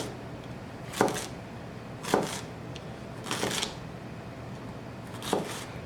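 A knife slices through a carrot on a cutting board in four separate crisp cuts, each ending in a sharp thunk against the board, spaced about a second apart over a quiet background.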